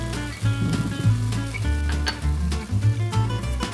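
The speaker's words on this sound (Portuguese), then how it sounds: "Agora eu vou deixar refogar por mais ou menos uns 5 minutos para entrar com as pimentas e continuar esse refogado" Refogado sizzling and frying in a pan for a Cuiabá-style fish dish, a close, loud, continuous sizzle with occasional stirring scrapes and pops.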